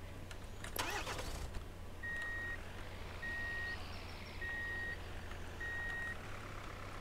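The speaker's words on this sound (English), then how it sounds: "So as we approach it in a vehicle, it automatically opens up." A vehicle in the ContractVille video game idles near an automatic gate. A steady low engine hum runs under a soft repeating electronic beep, with a brief clunk near the start.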